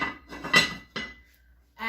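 A metal lid set onto a pot of spring chicken stew with asparagus, peas and ale: a few close, sharp clinks and clatters in quick succession, then quiet.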